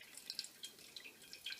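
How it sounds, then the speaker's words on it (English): Water drips and trickles from a DeLonghi combination espresso and coffee machine, a quiet run of small irregular drops and splashes, close and faint, with no talking. "Water is already coming out within 2 minutes."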